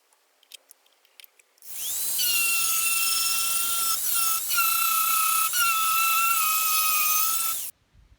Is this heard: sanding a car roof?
yes